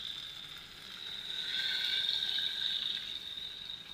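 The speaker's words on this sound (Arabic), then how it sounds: "وبعد كده احط له الميه" Water is poured into a pot of rice with vermicelli, a soft continuous splashing fill that swells in the middle and fades, fairly quiet and with no voices.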